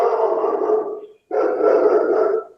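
A dog gives two long, loud, close barks or drawn-out howling yelps, separated by a brief gap, with no talk over them.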